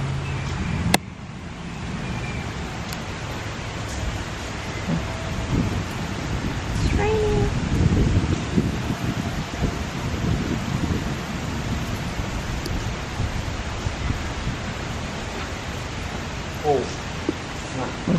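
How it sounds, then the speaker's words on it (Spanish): A heavy thunderstorm brings steady rain noise and deep rolling rumbles of thunder, with a few sharper cracks, while people talk faintly in the background. "Están los truenos a todo lo que da."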